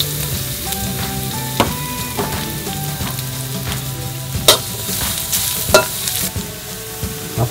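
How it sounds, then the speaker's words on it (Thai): Close sizzling and crackling of garlic frying in hot oil in a wok, with occasional metallic scrapes and clanks of stirring. "กระทะร้อนแล้วใส่น้ำมันครับ"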